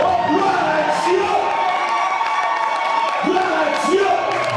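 A church congregation cheers and acclaims Jesus with sustained loud crowd shouting and whooping that fills the room, as rising calls and cries repeat throughout.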